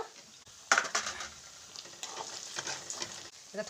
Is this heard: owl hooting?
no